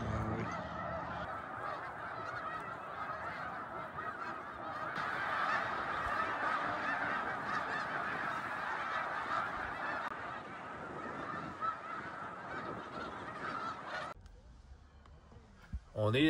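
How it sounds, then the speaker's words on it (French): Thousands of wild white snow geese honking, a dense, continuous chorus from a large flock heard at a distance, which stays steady and then fades near the end. "Il y a des milliers d'oies sauvages blanches."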